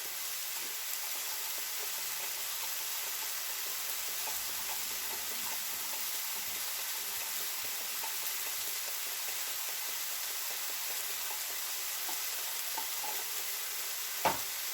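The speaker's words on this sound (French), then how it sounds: "faites bien revenir vos pommes" Apples sauté in a pan for cinnamon apple puff pastries, a soft, even sizzle and hiss running throughout with faint scrapes of stirring, fairly quiet and close, no voices.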